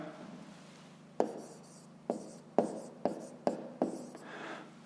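Handwriting while working through a math exercise: a series of sharp pen strokes and taps in an uneven rhythm, close and fairly quiet, with no talk.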